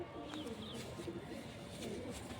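A Punjabi pigeon coos softly and close by, a few short low murmuring calls over a faint background hum.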